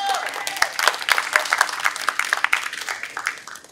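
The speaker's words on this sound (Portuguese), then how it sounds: "Palmas, gente!" A small audience claps for a poet at a community talk event, with scattered, uneven claps rising and falling that are sparser than full applause, while voices murmur underneath.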